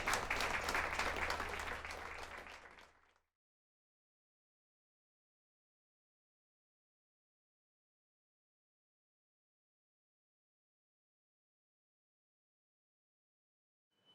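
Audience applause after a jazz performance by a composers group, a brief burst of clapping for about three seconds that cuts off abruptly into silence.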